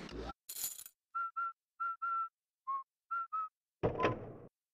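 Luigi whistles a short, nervous tune in the video game Luigi's Mansion, several clean, separate notes in a steady rhythm, framed by brief thumps and rustles at the start and end.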